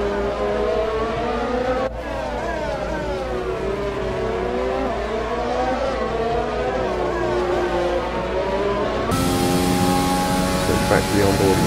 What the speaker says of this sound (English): back to the onboard and you see how bad that engine's struggling right now